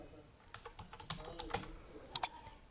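Typing a subfolder name on a computer keyboard: a quick run of light, close key clicks with uneven spacing, ending in two sharper taps, all at low level in a quiet room.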